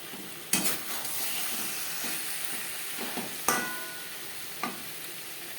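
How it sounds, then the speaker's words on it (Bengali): Green chili and tomato paste stir-fry with coconut in a pan over medium flame, a steady sizzle broken by a few sharp scrapes of a spoon, no talking. "কাঁচা লঙ্কা ও টমেটোর পেস্ট বেশ ভালো করে মিক্সড করে দেব মিডিয়াম ফ্লেমে চার পাঁচ মিনিট কষিয়ে নেব"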